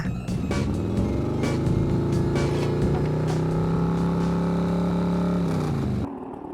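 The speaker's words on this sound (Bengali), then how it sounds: "বাইক চালাতে বাইক চালাতে চলে এসেছে মামা" Cartoon motorcycle engines drone loudly and steadily during a bike race, the pitch rising slightly as they speed along before cutting off abruptly near the end.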